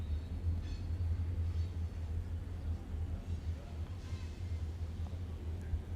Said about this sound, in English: I think we have a train coming behind us, so that's the loud noise that you're hearing.